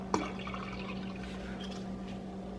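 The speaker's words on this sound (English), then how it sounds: "I'm going to add some water." Water pours steadily into a soy sauce marinade for Korean braised LA galbi short ribs, a continuous close splashing trickle after a short knock, with no talking.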